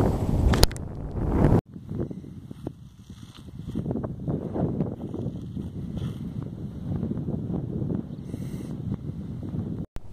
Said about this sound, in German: jetzt wird es aber echt windig